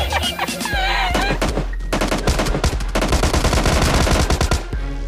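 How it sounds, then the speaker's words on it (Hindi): Rapid bursts of automatic gunfire rattle nonstop over a dense, loud PUBG Lite game soundscape with music-like tones underneath. "भाई साहब गोली उली पहले ही चलने लगती है"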